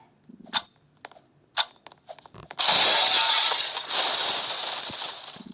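A few light clicks and taps, then a sudden loud shattering crash of a glass bridge breaking in Roblox, spraying and fading into a long crackling tail.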